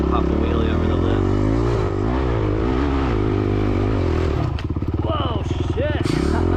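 A dirt bike engine in a race, revving hard and changing pitch as the rider pops a wheelie over a lip, loud and close with wind and clatter, and a person talking over it.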